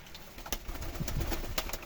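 A tumbler pigeon flapping its wings in a coop, a few sharp irregular wingbeat bursts close by, with soft low rustling between them.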